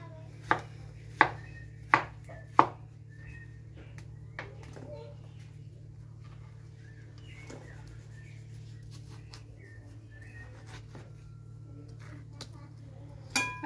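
A knife chops watermelon into cubes on a board, a few sharp knocks in quick succession near the start and one more at the end, faint background hum and soft voices between.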